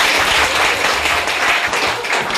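Studio audience on a cooking show breaking into applause, a brief, loud, dense patter of many hands clapping together with no talk over it.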